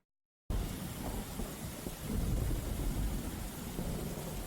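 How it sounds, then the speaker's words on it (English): Rain and thunder sound effect played back from an iPad, starting abruptly after a brief silence as a dense, steady roar of rain with low rumbling thunder swelling midway, no voices. "if I want to play a rain and thunder,"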